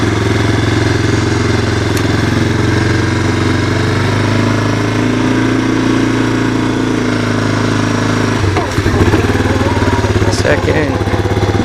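A 1985 Honda ATC 250SX three-wheeler's engine runs loud and close in first gear with a steady, buzzing drone that shifts pitch as the throttle changes near the end, while a voice talks over it.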